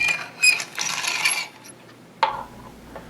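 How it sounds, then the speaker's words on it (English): A Negator spring motor in a 2500 ATG tank gauge unwinds by hand crank, giving a few quiet metallic clinks and a short ratcheting rustle, then a sharp click and fading ring in a quiet room. "Grip the hand crank firmly, remove the vice grips, and unwind the motor completely."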